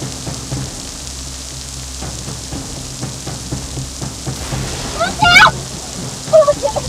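Steady rain hisses and patters over low rumbling thunder, with a few sharp lightning cracks in a forest and a voice speaking briefly near the end.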